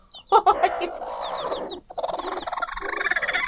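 Hens with small chicks cluck and chirp close by in short, busy bursts, with faint high peeping mixed in.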